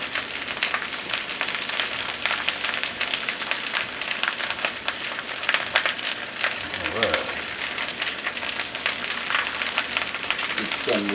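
Potatoes frying in a pot for Cajun smothered potatoes give a steady, dense sizzle throughout, with brief stirring scrapes near the end and a faint voice in the background.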